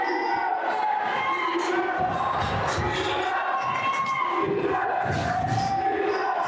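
A high school boys basketball crowd roars and cheers through a state tournament first-round game during a strong defensive possession, with sustained loud shouting and a steady wall of voices from start to finish.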